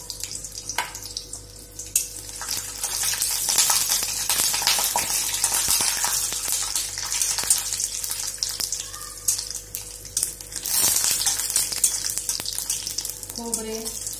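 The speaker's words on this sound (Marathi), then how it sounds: "तेल गरम झालेले आहे त्याच्यामध्ये आपण खोबरे टाकून घेऊया।" Grated coconut roasting in hot oil for a masala, a loud continuous hissing frying sound with bursts of crackle and occasional stirring scrapes, close up and sustained throughout.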